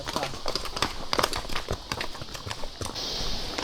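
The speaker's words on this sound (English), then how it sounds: "As our horses slowed to a gentle walk" Horses ridden along a riverside trail near La Fortuna, Costa Rica, walk with hooves clip-clopping in a quick, uneven rhythm, close and clear over soft outdoor background noise.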